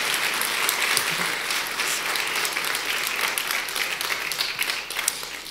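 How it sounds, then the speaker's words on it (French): Wedding guests applaud the newlyweds, Evodie and Tomy, with a full, steady burst of clapping that swells slightly and then fades a little toward the end. "on peut encore les applaudir"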